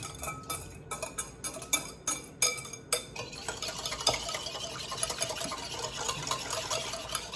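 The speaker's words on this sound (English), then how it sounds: "So give this a good mix." Vinegar slaw dressing mixed in a bowl: a run of quick clinking taps at the start, then continuous close whisking and scraping, with no talking.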